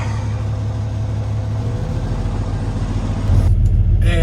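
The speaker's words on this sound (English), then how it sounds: "let's let her idle up" A truck engine idles with a steady, close, low rumble. It swells slightly louder near the end as the idle climbs.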